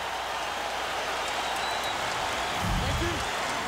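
Arena crowd at a boxing match between Bernard Hopkins and Howard Eastman in 2005 roars steadily, a dense continuous wall of cheering and applause that swells slightly near the end.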